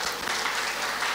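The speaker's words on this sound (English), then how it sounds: "clap hands." A brief, dense burst of audience clapping at a church silver jubilee cultural evening, a steady wash of many hands with no clear gaps.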